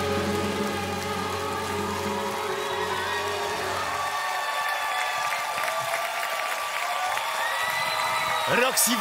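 Audience applause after a dance freestyle on the Polish Dancing with the Stars, a dense wash of clapping heard over music at first, then carrying on alone with a brief cheer near the end.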